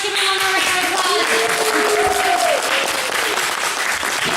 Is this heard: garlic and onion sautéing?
no